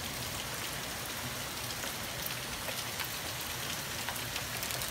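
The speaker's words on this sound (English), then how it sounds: "Hail still falling down." Hail falls during a night storm, a steady, even patter of many small impacts on surfaces, moderately faint and continuous, with no voices.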